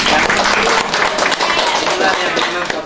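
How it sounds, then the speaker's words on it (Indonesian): An audience claps in a burst of mixed applause at a regional government event, loud and close, with a voice talking over the clapping. "Kasih tepuk tangan dulu."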